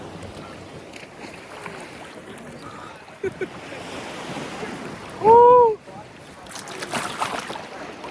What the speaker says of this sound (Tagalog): Lakas ng alon dyan sa gilid.